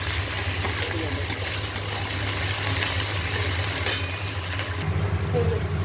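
Lentils fry with ginger paste in a pan, a steady soft sizzle running throughout beneath a low background hum, with a few faint clinks of stirring.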